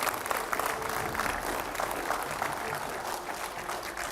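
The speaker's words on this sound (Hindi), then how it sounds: "जोरदार तालियों से स्वागत कीजिए तुलसी पीठाधीश्वर जगत गुरु राम भद्राचार्य जी का" Audience applause welcoming Jagadguru Rambhadracharya to a televised discussion with five editors; steady, dense clapping from a crowd running the full length at moderate level.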